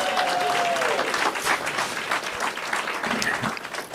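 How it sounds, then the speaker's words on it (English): An audience at a town hall meeting breaks into a dense round of applause, steady clapping from a crowd that holds for a few seconds before beginning to thin out. "give them a huge round of applause"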